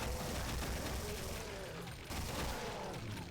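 Rapid, continuous automatic fire from a chain gun in the first-person shooter Brutal Doom, a dense loud rattle of shots filling the whole stretch with only a brief dip near the middle, no talking over it.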